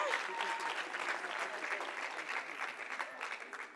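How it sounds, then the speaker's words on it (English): Sustained applause from an audience for a poet at a Youth Month commemoration, steady clapping filling the whole stretch at moderate volume. "Can we do a round of applause for our poet?"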